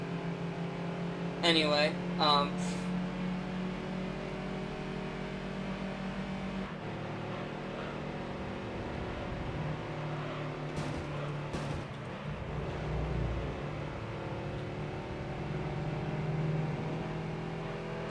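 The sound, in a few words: racing car engines in video game Gran Turismo 3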